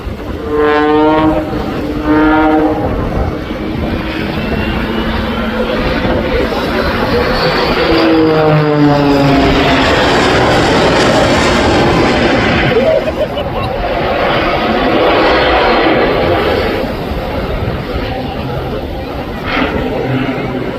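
A jet-powered Pitts S2E biplane flies at the Blackpool airshow, a loud sustained jet roar that rises and sweeps past overhead for a long stretch, with an announcer talking over it.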